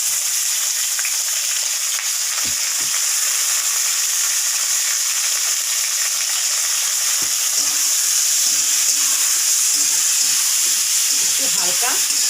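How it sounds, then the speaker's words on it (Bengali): Potatoes with onion and tomato fry lightly in a pan with a continuous close sizzle, with occasional stirring scrapes and faint background noise throughout. "একটু হালকা এটাকে ভেজে নিব আগে, বেশি ভাজবো না, হালকা হালকা ভাজবো।"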